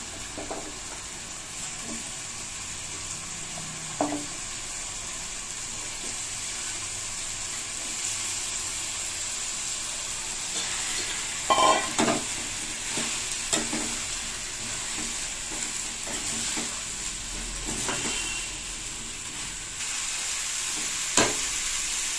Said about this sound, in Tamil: டபுள் பீன்ஸ் சேர்த்து கொஞ்சம் நேரம் ஒரு 2 நிமிஷம் வதக்கினா போதும்.